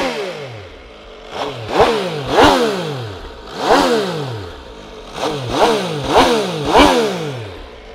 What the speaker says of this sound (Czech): MV Agusta je taky známá větším mechanickým hlukem z motoru